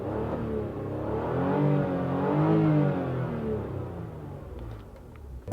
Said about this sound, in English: here's how the engine and the exhaust sound from the inside.